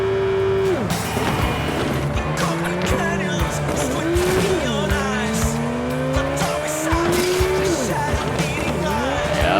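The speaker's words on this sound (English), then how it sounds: "handbrake turn" Car tires in Cyberpunk 2077 skid and squeal through a handbrake turn, long rising and falling screeches over a steady engine drone, loud and close, with no speech.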